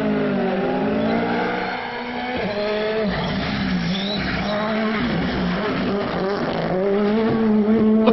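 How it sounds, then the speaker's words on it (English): Race car engine on a time-trial run, a loud, continuous high-revving drone with shifting pitch as it cruises along, heard close and alone without talk. "Let's listen to that engine as he just cruises along."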